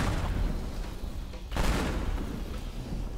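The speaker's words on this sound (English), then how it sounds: "And I'm just placing as many bombs as I can. And there's all of the bombs." Bombs explode in the destruction game Teardown as a dense, continuous roar of blasts and rumbling debris, with a fresh loud burst midway.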